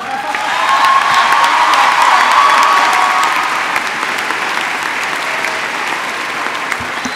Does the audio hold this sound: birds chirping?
no